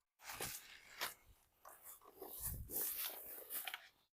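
German Shepherd dogs sniff around close by in a forest, with short, irregular bursts of snuffling and breathy noise over about four seconds.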